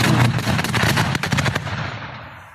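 Cluster munition explosions near Bakhmut at Klishchiivka crackle in a dense, rapid burst of popping detonations over a rumbling roar that fades out, loud and with no talk.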